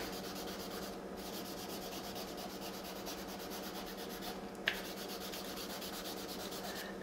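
Vine charcoal rubbed across paper while drawing a landscape of trees, grasses and rocks: a quiet, continuous close scratching with rapid short strokes and one small tap partway through.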